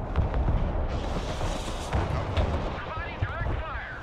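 Rumbling rocket artillery fire from an MLRS launcher in the video game Broken Arrow, with dense booming blasts and a whooshing roar that carry on for several seconds, loud and close.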